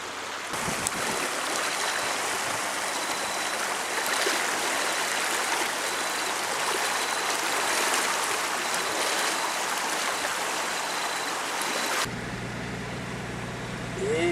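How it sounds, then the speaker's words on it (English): Floodwater rushes hard and swirls through a channel beneath a bridge during the 2012 Numurkah floods, a steady, loud, close roar of churning water that holds constant before the sound shifts abruptly near the end. "by the swirling of the water and how hard it's going down there"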